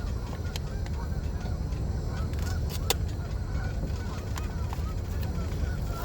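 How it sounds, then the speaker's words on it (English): Geese honk repeatedly near a truck camping spot, sharp calls scattered through a steady low rumble of background noise. "Geese are getting really loud."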